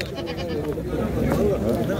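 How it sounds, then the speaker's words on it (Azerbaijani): Young goats at a Khachmaz sheep and goat market bleating, a few wavering calls mixed into crowd noise and nearby talk. "Cavan keçilərdir."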